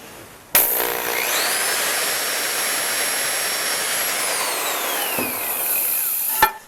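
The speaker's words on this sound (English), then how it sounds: "now that the pilot hole's done, I'll finish it off with the full-size drill." Drill boring a pilot hole for a rod holder bracket on a boat, a steady loud whine that rises as the bit spins up and winds down at the end, heard alone.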